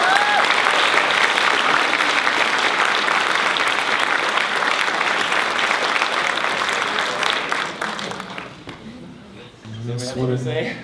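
Sustained audience applause at a 48 Hour Film Project awards show, loud and dense for most of the clip before thinning out near the end, with a voice starting to speak over the fading claps.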